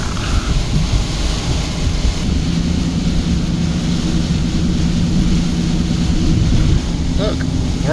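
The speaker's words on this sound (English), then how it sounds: "Nothing like driving down the interstate in a full-blown rainstorm." Steady broadband roar of a car driving down the interstate through a full-blown heavy rainstorm, dense continuous wash of rain and road noise throughout, constant and loud.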